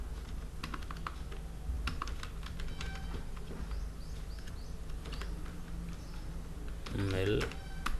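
Someone types on a computer keyboard while working in MS Word, making a close, irregular patter of plastic key clicks over a constant low background hum, with a soft voice talking underneath.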